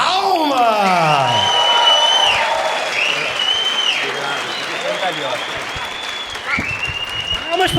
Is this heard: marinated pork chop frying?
no